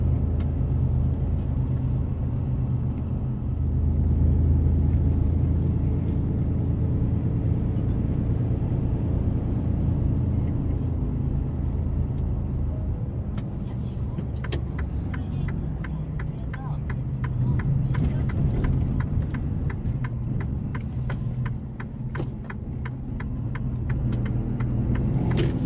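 A car entering the Hugok highway interchange, heard from inside as a steady low engine and road rumble, with faint rapid ticking joining partway through.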